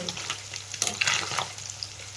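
Oil sizzles loudly up close as fish pieces fry for pickle while a utensil scrapes and stirs, with a few sharper crackles in the middle.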